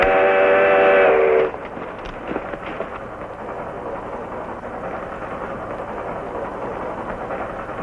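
A steam train's whistle blows loudly for about a second and a half, then gives way to steady rumbling and clanking as the train approaches in a 1955 western film, with no voices over it.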